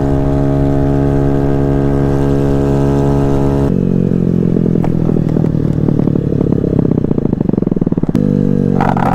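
A Honda Ruckus scooter engine runs steadily at close range, then turns rough, giving off a loud rattling, grinding clatter over the engine drone that continues to the end.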